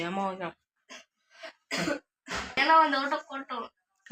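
An elderly woman coughs after eating pickle, with several sharp, harsh coughs and throat clearing close by, spread between bursts of conversational speech.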